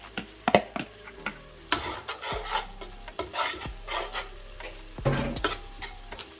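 Garlic fries with golden seasonings in a pot of roucou vegetable rice. Soft sizzling sits under repeated close scraping strokes of a stirring spoon in an uneven rhythm, with no talk.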